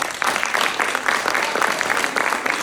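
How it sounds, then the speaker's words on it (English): Audience applause at a provincial all-candidates political forum, a sustained burst of many hands clapping in a hall, moderately loud and even for the whole stretch. "your clapping does not allow them to finish their questions"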